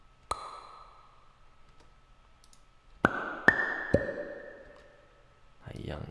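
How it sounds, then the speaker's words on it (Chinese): Bubble layer from a Carto game sound effect: a short ping is followed by a pause, then three quick plinking pops with short ringing tails, clear and close. "还有一个泡泡的声音，"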